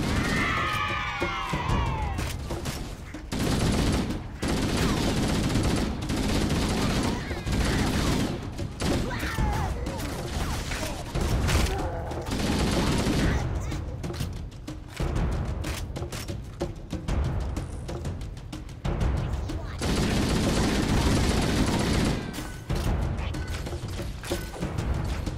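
Rapid bursts of weapon fire in the video game Halo: Combat Evolved, repeated crackling volleys and mechanical clatter broken by short pauses, with voices speaking between the shots.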